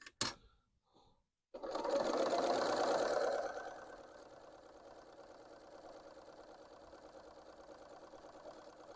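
A Bernina L890 sewing machine starts with a loud, close whir after a brief pause, then settles into a steady, consistent running hum for several seconds with no voices.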